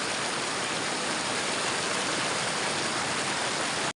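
A mountain stream in an Uttarakhand hill village rushes as a loud, dense, unbroken wash of water noise, close by and alone, and it cuts off abruptly at the end.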